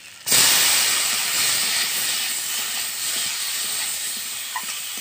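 Raw mango pieces drop into hot oil already seasoned with black and white mustard seeds, chilli powder, turmeric and salt, setting off a loud, sudden sizzle that holds as a steady hiss for several seconds.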